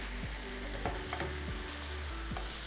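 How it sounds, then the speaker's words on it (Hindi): An egg cooks in a little oil on a tawa over a gas flame, giving a steady soft sizzle with a few faint scraping clicks from a utensil. "तवे पर थोड़ा सा ऑयल और इसमें डालेंगे एग।"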